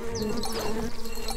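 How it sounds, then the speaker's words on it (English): Bees buzzing in the video game Secrets of Grindea, a steady insect drone with a few higher whining passes over a retro RPG festival soundtrack, lasting just over a second with no talk. "Plenty of bees, baby."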